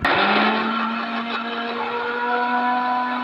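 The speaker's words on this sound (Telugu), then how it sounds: "పేస్ట్ అయ్యేలాగా మిక్సీ పట్టుకోవాలి." A kitchen mixer grinder runs loud and close, grinding peeled garlic and ginger into paste with a steady whirring motor hum from start to finish.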